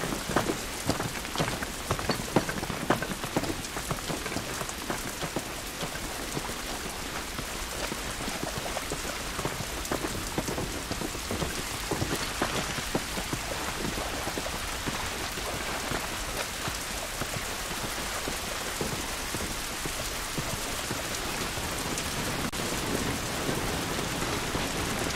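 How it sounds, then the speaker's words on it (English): Steady heavy rain pours down outdoors in the game The Last of Us, a dense, even hiss of drops on surfaces that holds constant throughout with no voices. "This rain ain't gonna do us any good."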